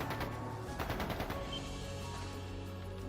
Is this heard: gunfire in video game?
yes